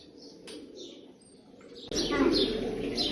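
Pigeons coo softly amid bird chirps, then a louder burst of rustling and wing flapping takes over near the end.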